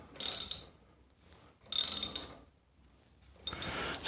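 Thread repair tool being wound into a stripped spark plug hole, three separate bursts of close ratcheting clicks and grinding with silent gaps between them, no talk.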